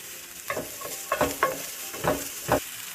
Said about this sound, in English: I'm going to sweat this a little bit for about 2 minutes, or even maybe just 1 minute